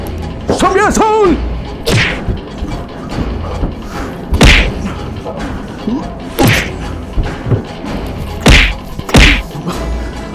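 Melee weapon blows in State of Decay 2: a string of heavy thuds and whacks at irregular intervals, loud and close, with a voice speaking between the strikes.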